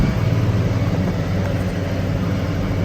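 Massey Ferguson 4710 tractor engine pulling a Vermeer TM1200 mower, a steady loud low rumble with constant drone throughout, no talking.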